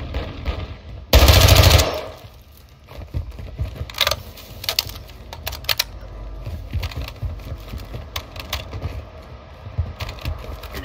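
Full-auto gunfire in the video game Warzone, a loud close burst near the start followed by scattered quieter shots and clicks further off.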